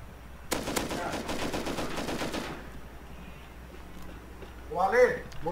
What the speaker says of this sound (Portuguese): Calma aí, tá trocando tiro com eles.